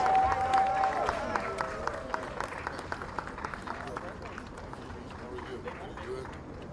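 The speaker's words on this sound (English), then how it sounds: "Put your hand together, please." Audience applause at the Liberian flag hoisting at Philadelphia City Hall, scattered hand claps over a faint background, with a voice speaking briefly near the start before the clapping thins out.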